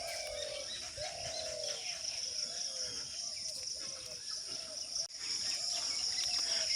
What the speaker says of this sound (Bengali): চারদিকে পাখি ডাকতেছে, ঘুঘু ডাকতেছে